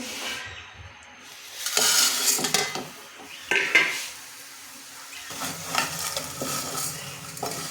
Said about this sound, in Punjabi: ਲਓ ਜੀ ਆਪਾਂ ਸੇਵੀਆਂ ਨੂੰ ਭੁੰਨਦੇ